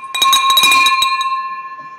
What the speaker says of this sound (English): That's the first bell of many.